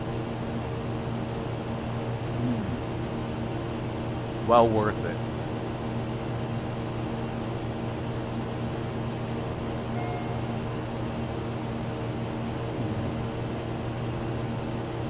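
Steady drone of a light aircraft in flight over Puerto Rico, a constant cabin-level engine hum running throughout with someone talking briefly above it.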